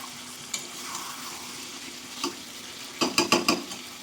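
Mutton being sautéed with spices in a pan for a mutton curry, with a low sizzle under sparse stirring scrapes and a quick burst of several spatula knocks near the end.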